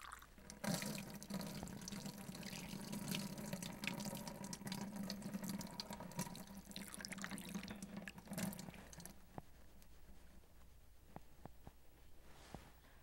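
Tap water runs steadily into a sink while a glass thermometer is rinsed, a close, even splashing rush for most of the stretch, then the flow stops and a few scattered drips and small clatters follow.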